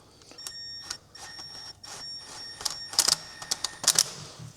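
A power tool whizzes bolts onto an Audi wishbone in short, irregular bursts with a high metallic whine, growing louder and sharper toward the end. No one speaks.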